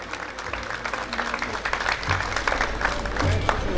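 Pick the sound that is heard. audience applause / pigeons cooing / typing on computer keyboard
audience applause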